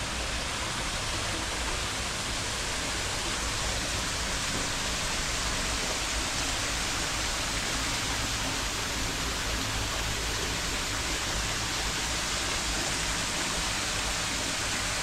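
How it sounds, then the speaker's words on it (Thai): Solar-powered artificial waterfall pouring over a fish pond beneath a wooden deck, a constant, dense rushing of water that stays even and unbroken throughout with no voices. "ได้ยินเสียงน้ำตกกันไหมครับ"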